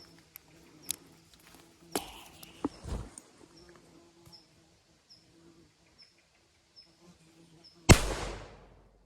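After quiet clicks and rustling, a single sharp explosive bang from a chalk-cloud pyrotechnic marker grenade goes off nearby, loud and abrupt, followed by a brief fading hiss.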